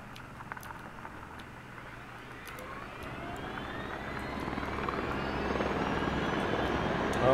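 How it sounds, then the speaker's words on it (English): A helicopter in the video game Squad, on the Harju map, approaches from a distance, its rotor and engine noise swelling steadily louder as it closes in. "they heard the helo"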